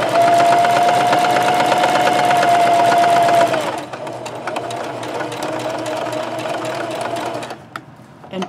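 Sewing machine stitching a fat-quarter scrub cap with a loud, fast whir that winds down, then a quieter stretch of short back-stitching runs. The machine sounds close and runs without talk.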